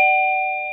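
Daytech wireless door chime ringing as a door contact is opened: one steady, close electronic chime tone held for under a second, clear and loud, with no other sounds.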